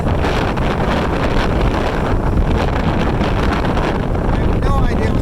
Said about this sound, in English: It's just wind this strong without a cloud in the sky.